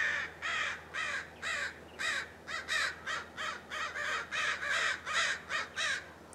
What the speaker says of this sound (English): About 500 crows are just in this field to my left.